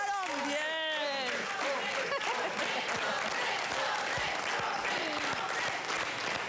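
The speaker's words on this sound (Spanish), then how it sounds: "ahora digo aplauso para estos tres muchachos" Sustained applause from a crowd, dense and steady throughout, with a brief voice or whistle rising over the clapping at the start.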